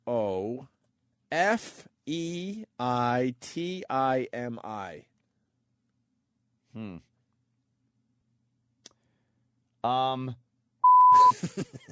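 A censor bleep covers a spoken surname on a talk radio show, a short steady electronic tone lasting under a second, coming after bursts of studio conversation and a pause.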